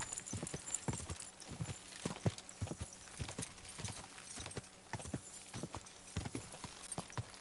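Rapid, regular hoofbeats of a horse in the video game Kingdom Come: Deliverance II clop along steadily at a gallop, fairly close and moderately quiet, with no talking over them.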